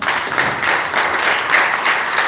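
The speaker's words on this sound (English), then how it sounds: "Clap for me." An audience at an entrepreneurial summit breaks into brief, dense applause, many hands clapping together at a steady loud level for a couple of seconds.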